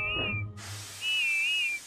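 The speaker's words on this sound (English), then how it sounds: "Then at last she heard Whiff's funny whistle." A steam engine's whistle sounds twice, a short wavering tone first and then a longer steady one after a burst of hiss, close and fairly loud with no talk over it.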